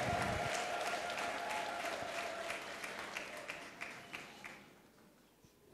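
A church congregation applauding in praise of Jesus, a dense wash of clapping with some crowd voices, loud at first and slowly fading away over several seconds.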